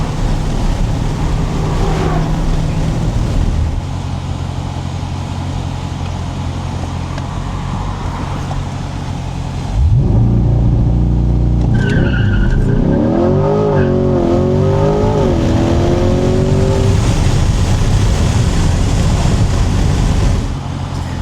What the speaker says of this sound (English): Next straightaway, I'm going to see if I can get a launch control.